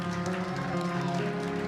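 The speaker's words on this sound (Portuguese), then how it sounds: "Não, aplauda mais forte," Audience applause in a Portuguese-language sermon-style talk, a steady dense wash of clapping from a crowd, sustained and fairly loud throughout the short stretch.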